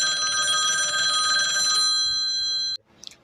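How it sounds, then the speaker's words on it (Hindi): A mobile phone ringtone plays as a steady, bright electronic ring for under three seconds, then cuts off abruptly, leaving near silence and a brief faint rustle. "तभी निखिल के फ़ोन में ना घंटी बजती है"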